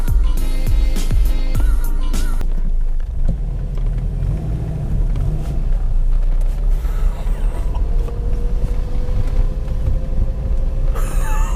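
A Subaru with a swapped 6-speed manual gearbox pulls away on its first drive, its engine rumbling steadily and loudly up close among mechanical creaks and clunks, with a rising whine late on and no talking.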